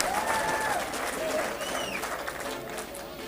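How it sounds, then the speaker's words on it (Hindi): A live audience breaks into loud, sustained applause at a Hindi-language speech event. Dense clapping runs steadily throughout, with faint whistles and crowd noise mixed in. "तुम्हारा एक बार जोरदार तालियां।"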